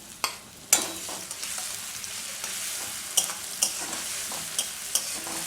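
Garlic paste and tomato frying for Bengali-style ghugni, a soft continuous sizzle broken by a few sharp spatula clinks and scrapes against the pan, close and without talk.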